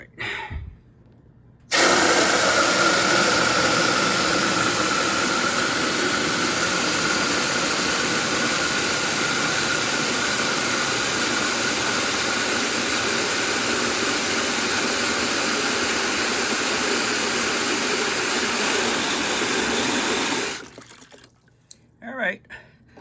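Water gushes from the drain of a hot water tank into a homemade spray deflector, a loud steady rushing hiss that starts abruptly and runs for about twenty seconds before cutting off, with faint handling noises around it.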